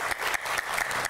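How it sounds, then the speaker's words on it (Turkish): Brief burst of audience applause on a Turkish live television show, a steady wash of many hands clapping at moderate loudness with no talk over it. "kocaman bir alkış hak etmiyor mu?"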